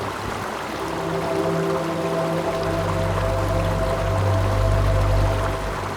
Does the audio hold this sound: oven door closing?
no